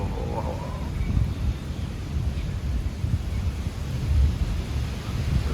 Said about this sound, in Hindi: क्या हवा चल रही है भाई साहब, क्या बारिश हो रही है।